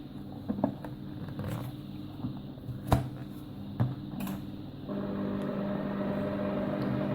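A Compact Cook Elite multicooker runs with its lid closed, giving a close mechanical hum with a few clicks and knocks, then settling into a steadier, louder whirring drone.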